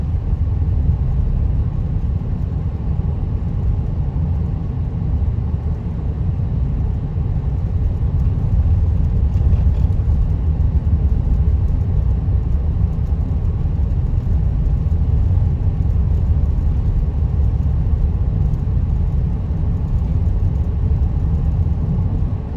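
Steady, loud rumble of a car driving along a road in South Carolina, a continuous low engine and tire drone heard from inside the vehicle, unbroken throughout with no speech.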